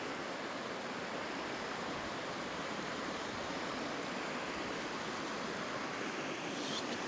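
A continuous broad roar of river water flowing in Zion National Park in winter, even and fairly loud, with no voices over it.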